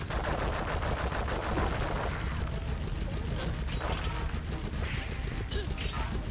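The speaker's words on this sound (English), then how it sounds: "I can shoot him at least." Rapid gunfire from the Sly Cooper video game rattles continuously under busy game noise, dense and loud throughout with no speech.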